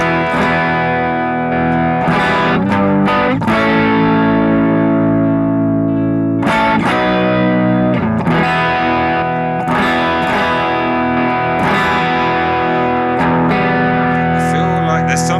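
An electric guitar on the neck pickup plays through a BOSS GT1000 blending VOX and JC120 amp models at low gain, with sustained chords and melodic notes ringing with effects and reverb, loud and continuous.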